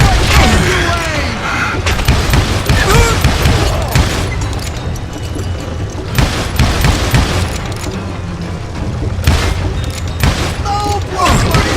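Gunfire in the Call of Juarez Gunslinger video game: loud, dense bursts of shots and booming impacts under in-game voices and music.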